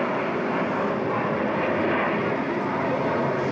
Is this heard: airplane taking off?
yes